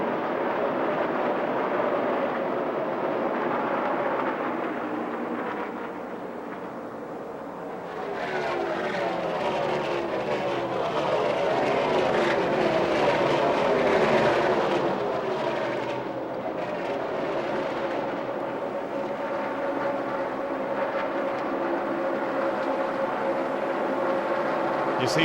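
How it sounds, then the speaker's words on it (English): The NASCAR Cup race car of Dale Earnhardt Jr. at the 2007 Kobalt Tools 500 heard from the in-car camera: a loud, constant engine roar that dips briefly and then climbs again through the turns, with no talk. "You hear the engine as he goes in through the turns."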